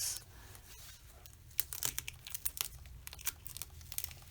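Paper being slowly and carefully peeled off a surface at a slight angle during a colouring craft session, giving faint, close crinkling and soft tearing crackles over a low steady hum, with no talking.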